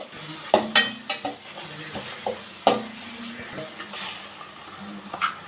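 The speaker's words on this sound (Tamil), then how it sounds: "ஆனியன் போட்டு வதக்கணும்" Onions sautéed in a pan for home-style chicken curry: a soft sizzle under repeated spoon scrapes and metallic clinks against the pan, irregular and close, with a few sharper knocks standing out.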